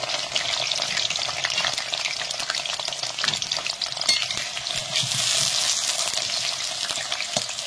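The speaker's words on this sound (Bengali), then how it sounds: "তো আলুগুলো লাল লাল করে ভেজে তুলে নেবে।" Potatoes fry in a pan over a clay stove with a steady, loud, dense sizzle, and a few soft stirring scrapes come through the hiss. No one speaks.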